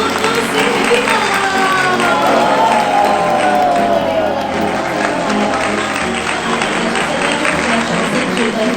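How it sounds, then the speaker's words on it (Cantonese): Wedding guests at an indoor party hall clap and cheer in a full, sustained burst of applause, with crowd whoops and background music running underneath the whole time. "掌聲幾好啊！"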